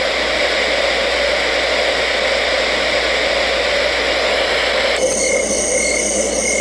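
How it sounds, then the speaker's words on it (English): White noise setting on a hotel room sound machine: a steady, dense broadband hiss that stays even and unbroken, with a slight change in texture near the end. "white noise"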